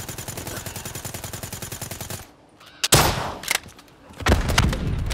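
Rapid automatic gunfire in a Call of Duty Black Ops III multiplayer match, a steady burst for about two seconds, then a brief lull and heavier, louder blasts of shooting, all fairly close and without speech.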